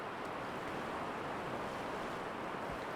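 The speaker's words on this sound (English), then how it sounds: "The waves look like they're doing some damage to the shoreline here too." Stormy ocean waves break against a storm-battered shoreline at South Hampton, a steady, dense roar of surf with wind buffeting the microphone, continuous and loud with no voices.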